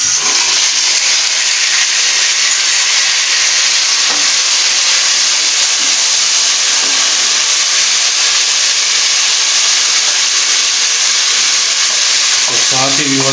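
Tomatoes hitting golden-browned onions in a hot pan for a shimla mirch and aloo dish, a loud, steady hissing sizzle that runs throughout, with a brief stirring clatter near the end.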